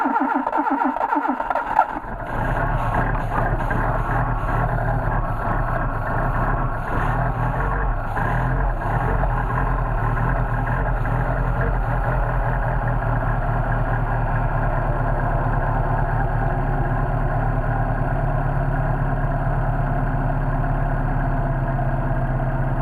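A car engine fitted with a Solex 44PHH carburetor starts in extreme cold and settles into a steady, low, rumbling idle that carries on close by with no voices.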